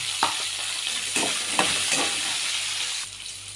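Ginger, garlic and green chillies sizzle steadily in hot oil in a pan for chicken biryani, with a few scraping stirs across the constant frying hiss.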